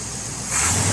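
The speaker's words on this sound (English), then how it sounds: "Smooth running engine." A 1968 Corvette with a 350-horsepower 327 V8 and four-speed idles smoothly nearby, a steady low rumble with broadband hiss that grows louder partway through.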